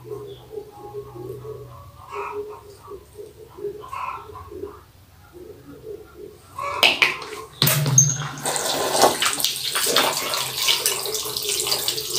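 A shower starts running partway through, after a quiet stretch with faint bird calls. It turns into a loud, steady rush of spraying water that continues to the end.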